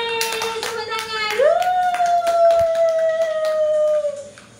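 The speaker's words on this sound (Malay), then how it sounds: "Yeay, tepuk tangan." Hands clap in quick bursts at a child's birthday celebration, mixed with a long high wail and voices nearby.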